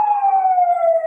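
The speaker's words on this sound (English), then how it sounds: "it sounds like I have some police or ambulance or something in my area" Police or ambulance siren passing nearby, a steady wailing tone that slowly drops in pitch as it goes by, loud and alone with no talk.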